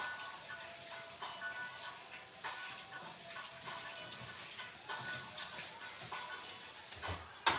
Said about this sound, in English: Gonna quickly wash my hands.